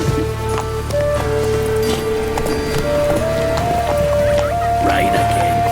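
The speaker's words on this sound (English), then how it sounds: "Rain again." Rain falls steadily in The Witcher 3, a dense wash of patter alongside hoofbeats from a trotting horse, with sustained musical tones and speech running over the top throughout.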